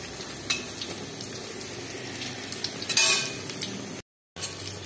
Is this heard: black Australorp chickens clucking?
no